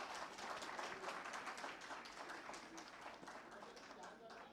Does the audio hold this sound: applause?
yes